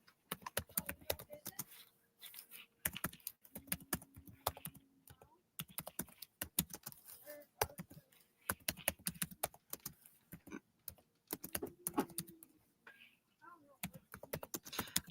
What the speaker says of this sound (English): It's going to take me a minute to type this all in.